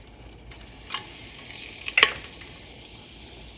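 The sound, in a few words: bay leaves and whole spices sizzling in hot oil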